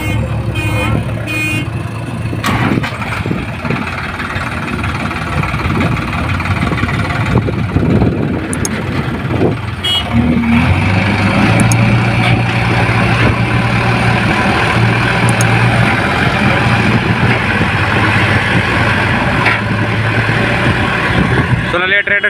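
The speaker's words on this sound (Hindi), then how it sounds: "देखिए कितना खतरनाक तरीके से फंस गया ट्रैक्टर।" A Sonalika DI 50 tractor stuck in a muddy field runs its diesel engine at a loud, steady drone close by, with a JCB pushing nearby and people talking over the rumble.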